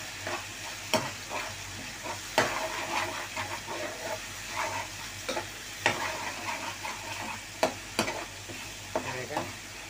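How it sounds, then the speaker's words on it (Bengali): Onions frying in oil with ginger, garlic and green chilli, a soft continuous sizzle punctuated by sharp spatula scrapes and taps against the pan every second or two. "পেঁয়াজগুলো কষাই নিব"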